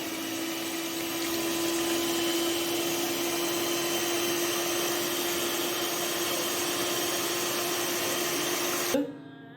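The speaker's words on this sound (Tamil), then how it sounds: "நல்லா விப்பிங் கிரீம் ஆட் பண்ணிட்டு நல்லா இதை நல்லா பீட் பண்ணிக்கிங்க" An electric mixer or beater runs steadily, whipping cream for vanilla custard ice cream, a continuous close motor whir with a fixed hum that holds for about nine seconds, then cuts off abruptly.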